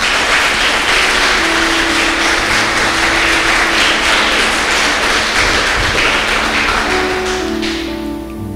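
A church congregation applauds in sustained, dense clapping that fills the room loudly and evenly, then fades slightly at the end as a low tone from the sound system lingers.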